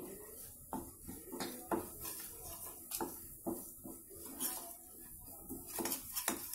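Fenugreek seeds and whole red chillies are stirred together in a pan with the gas off, giving soft, irregular scrapes and clinks of a spoon against metal.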